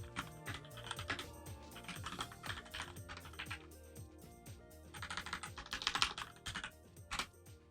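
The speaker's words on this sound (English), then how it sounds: "And that my keyboard is quite loud." A loud computer keyboard being typed on during a Minecraft session, bursts of rapid clicky keystrokes with short pauses between runs, close and clear, no talking.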